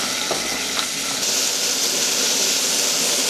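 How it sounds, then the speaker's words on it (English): Food sizzles steadily in a pan on a stove in a metal workshop, a dense continuous frying hiss with a couple of faint clicks near the start, close and fairly loud throughout. "Starting to make a nice sizzly noises"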